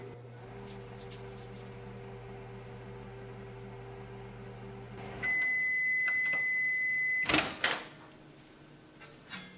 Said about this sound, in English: put it in the microwave and we're going to give 20 seconds